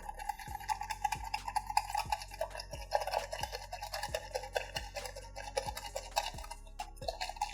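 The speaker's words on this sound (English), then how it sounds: "Again, whisk it together." Unsalted butter and salt whisked by hand in a bowl, close up: a steady run of quick, rhythmic scraping strokes of a whisk against the bowl, about one and a half per second, with no talking.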